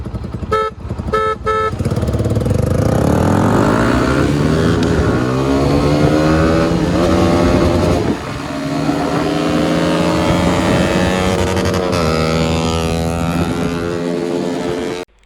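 A GPX Demon and a Yamaha R15 V3 motorcycle accelerate hard in a 0 to 100 drag race, loud engines revving up through rising gear pitches with a brief shift dip, close and continuous throughout.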